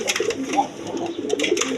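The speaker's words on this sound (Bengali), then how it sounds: "এখানে এক পেয়ার আপনার রাজগোল্লা কবুতর আছে" A pair of Rajgolla pigeons, a red male and a female, coo repeatedly in short throaty bursts close by, with some faint chatter and rustling around them.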